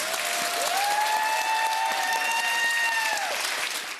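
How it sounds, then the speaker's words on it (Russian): A studio audience at a television program applauds loudly and steadily throughout, a dense wash of claps under a sustained electronic tone, with no talking. "Пусть тебе аплодирует зал."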